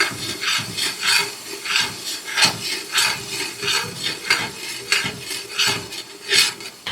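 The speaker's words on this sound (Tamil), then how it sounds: "இந்த மசாலாவோட கலர் சேஞ்ச் ஆகி பச்சை வாசனை போகிற வரைக்கும் வதக்குங்க" Ground masala paste for Dindigul biryani being sautéed in a pan, with a steady rhythmic scraping and rubbing of a spatula against the metal, moderately close and with no voices.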